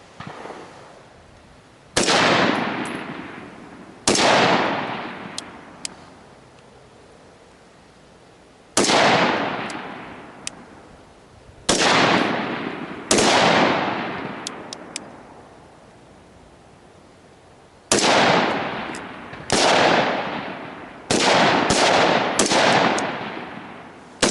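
Rifle shots on an outdoor shooting range during an intermediate rifle and carbine course: loud, sharp cracks come singly and in quick clusters, each trailing off in a long echoing decay, with quiet gaps between them.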